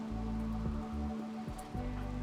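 Steady rain pours over the farm colony in the video game Rimworld, a constant soft patter heard alone, with a low background music drone underneath.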